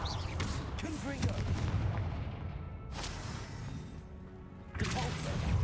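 Confringo fire spell blasts in Hogwarts Legacy, booming explosive bursts over rumbling low noise, with another impact near the end.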